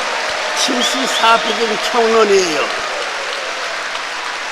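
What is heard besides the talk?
audience applause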